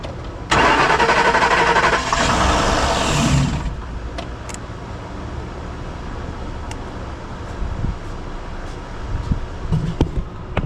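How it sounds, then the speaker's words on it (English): A car engine cranks and catches on starting fluid with a loud burst, revs briefly, then settles into a steady rough idle. "The engine started."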